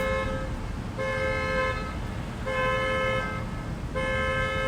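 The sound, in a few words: car horn honking from a nearby parked car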